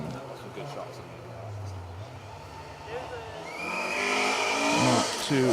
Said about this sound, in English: The car approaching.